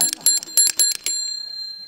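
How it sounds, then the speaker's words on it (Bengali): A household calling bell at a front door rings in a few quick bright strikes, then a short sustained trill that fades out, heard alone and up close. "আমার কলিং বেল শুনতে পাইনি না কি"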